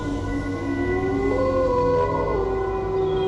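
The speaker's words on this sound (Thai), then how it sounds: "เสียงหมาหอนก็ได้ดังขานรับกันเป็นทอด" Long rising and falling howls overlap and sustain over a steady background hum, sounding like several dogs howling together.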